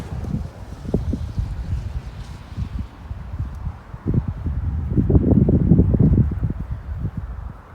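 Cold wind blowing outdoors along a countryside walking path, a steady rushing buffet against the microphone that swells stronger toward the end, with no talk.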